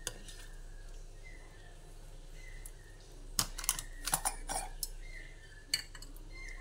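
A strainer clatters and taps against a bowl as palm fruit pulp batter is stirred for taler bora, producing a quick cluster of light metallic clicks and scrapes, close and fairly faint in a quiet kitchen.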